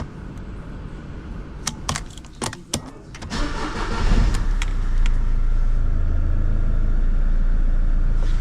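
2006 Mercedes Vito van with a freshly replaced fan belt: keys rattle and click in the ignition, then the diesel engine cranks and catches, settling into a steady, close idle.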